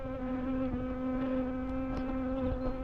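Honeybees buzz steadily close by at farm apiary hives during a spring inspection, a dense continuous drone with no voices.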